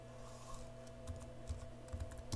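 Typing on a computer keyboard, heard as soft, irregular clicks and taps spread across a few seconds over a steady background hum, with no voices.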